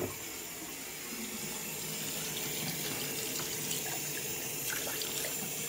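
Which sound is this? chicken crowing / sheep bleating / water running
water running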